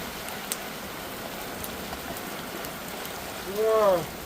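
Heavy monsoon rain falls in a steady, dense hiss of water on surfaces, continuous throughout, with a brief voice rising near the end.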